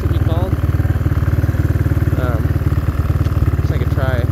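A 1983 Kawasaki Prairie 250 three-wheeler engine running close by, a loud, steady rapid putter with slight throttle variations, with a voice heard briefly over it.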